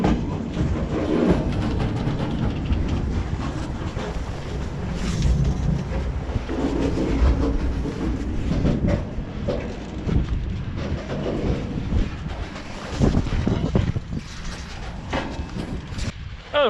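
A train pulls into its terminus at Tokmok, Kyrgyzstan, arriving on a side track, heard as a steady, loud low rumble of rolling wagons and machinery with occasional heavier knocks and clanks throughout.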